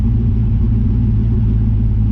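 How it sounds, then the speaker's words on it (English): A car engine idles and spools its turbo after an exhaust leak repair, a loud, steady low rumble that holds close and even for a couple of seconds with no voices. "Exhaust leak fixed, spool test."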